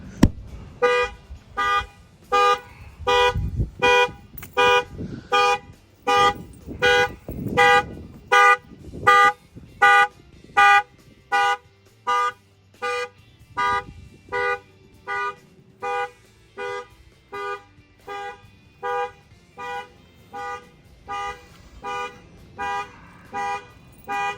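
A Ford Mustang factory car alarm blares in rapid, regular honking bursts, loud and unbroken for over twenty seconds, with a brief low rumble early on.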